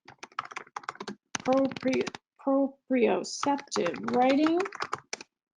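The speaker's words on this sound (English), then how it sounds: "I'm just typing it out here." Rapid clicking of a computer keyboard being typed on during a career-theories webinar, quick irregular taps running beneath and between a person's continuous talking.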